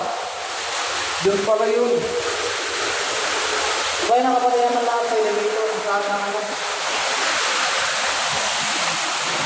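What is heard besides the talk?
heavy typhoon rain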